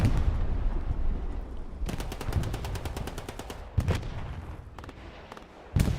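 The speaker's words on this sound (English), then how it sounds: "Axis drops some artillery strikes over here to the east side to maybe soften it up a little bit" Artillery strikes in the World War II video game Hell Let Loose: a rapid stuttering burst of fire is followed by heavy, close blasts. A low rumble of battle carries through the gaps.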